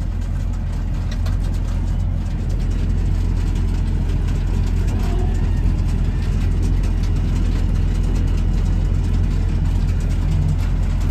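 A tractor engine idles steadily on a farm with cows nearby, a continuous low rumble holding even and loud throughout, with no talk.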